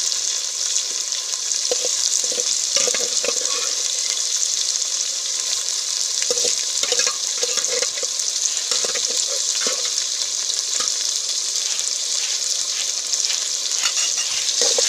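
Potatoes and peas frying in a pan while being stirred: a loud, steady hiss of oil with scattered scraping and clattering from the spoon, close and without any voices.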